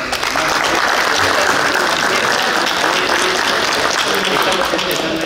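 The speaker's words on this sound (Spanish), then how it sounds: "Un fuerte aplauso también para" Loud, sustained crowd applause at an open-air patronal festival for the Virgin Mary Magdalene in Uramaza, Cajatambo. Many hands clap together in a thick, even wash that stays strong for five seconds, with faint voices mixed into the crowd.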